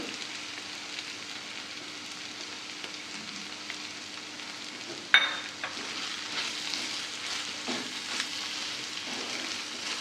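Ridge gourd chutney frying in a pan as coriander goes in, a steady close sizzle with a sharp clank of the spoon midway, then scraping stir strokes over the continuous frying.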